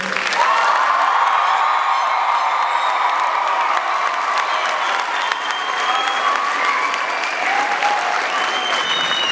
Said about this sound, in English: let's give a big round of applause to these graduates